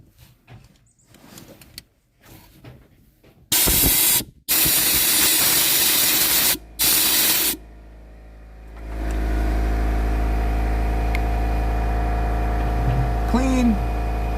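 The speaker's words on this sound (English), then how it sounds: "You got to go with compressed air and blow all those out." Compressed air blowing out the glow plug wells of a Ford 7.3 Powerstroke diesel engine, three loud hissing blasts of a few seconds each, followed by a steady engine-like hum, with someone talking at the start.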